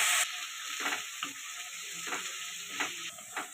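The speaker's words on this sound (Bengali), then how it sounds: "আলুটাও ভাজা ভাজা হয়ে গেছে" Potatoes fry in hot oil in a pan with a continuous sizzle and hiss, and several scraping stirs sound close by with no talk.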